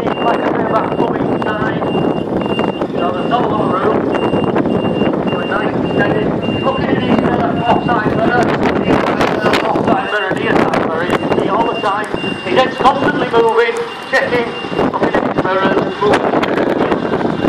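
Lorbie reversing a trailer slowly onto a tight loading bay between cones at a truck festival driving course, with a steady reversing beep and engine rumble under wind noise and nearby talk.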